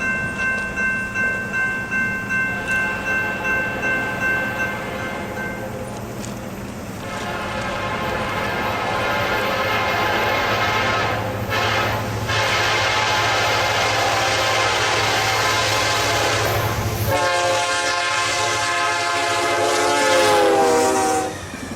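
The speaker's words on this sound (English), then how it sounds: "Here we see one of the UP intermodals with trackage rights speeding through with Western Pacific Heritage Unit number 1983." A Union Pacific intermodal freight train led by Western Pacific heritage unit 1983 speeds past on Kansas City Southern track near Choudrant, its horn blaring in long blasts over loud rumbling wheels and clattering cars.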